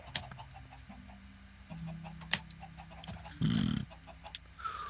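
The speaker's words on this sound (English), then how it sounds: "Oh, chicken's trying to get out." Chickens in the Minecraft video game cluck in short, scattered bursts over a low background hum, with one louder squawking flurry partway through.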